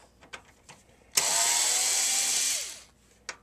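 A power screwdriver whirs in a single steady burst of about a second and a half, backing screws out of a Nintendo NES console, framed by a few light clicks and taps close up.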